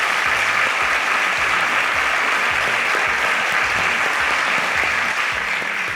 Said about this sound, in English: Please give a round of applause for the first team